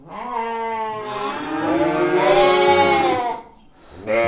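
A sheep at a livestock market gives one long, loud, wavering bleat close by, followed by the start of another call.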